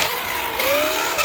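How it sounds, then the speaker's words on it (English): A strained motor whines steadily over a broad mechanical roar, its pitch slowly climbing, close and loud for a brief moment. "I think it might be the motor making all that noise."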